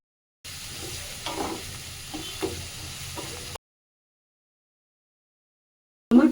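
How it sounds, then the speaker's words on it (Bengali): Chopped onions sizzle and crackle in hot oil in a kadai, browning into beresta, a steady frying hiss for about three seconds with a few stirring scrapes, then silence and a brief loud knock. "বেরেস্তাটা ভাজবো, তেল দেওয়া আছে কড়ার মধ্যে, আমি দিয়ে দিচ্ছি বেরেস্তা,"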